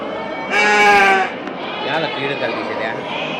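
A sheep lets out one loud, wavering bleat close by, followed by quieter murmuring and background noise at a sheep market in Angallu.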